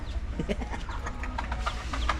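Chickens cluck in short, scattered bursts against a low background rumble, close by with no talking.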